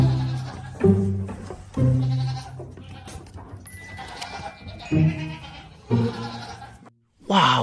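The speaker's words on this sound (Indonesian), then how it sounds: "Wow, lihat teman-teman, ini kambing." A goat bleats several times in short, separated calls, close by, with background noise between the calls.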